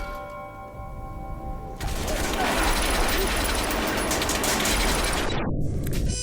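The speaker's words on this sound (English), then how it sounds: "You actually feel like the bullets are whizzing by you." Dense gunfire erupts in a film action scene after a quieter opening, with rapid shots, metallic clangs and impacts filling the space loudly and continuously, while voices sound briefly beneath the barrage.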